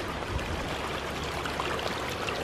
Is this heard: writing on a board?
no